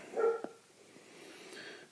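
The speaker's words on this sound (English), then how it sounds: "dogs have discovered something out there" Dogs bark outdoors in the distance, a brief faint yelp or two near the start followed by quieter, muffled sounds, heard through a quiet room with no talking.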